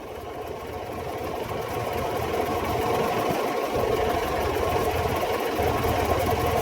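A Toyota RAV4 engine that had not been starting runs steadily after starting, a continuous close mechanical hum with rising revs, without talk.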